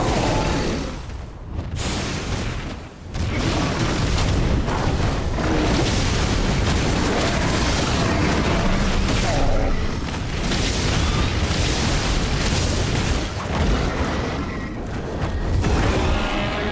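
An enhanced finishing explosion in the video game Final Fantasy XVI erupts as a loud, sustained roaring boom that rumbles on at full strength with few pauses, and no one speaks.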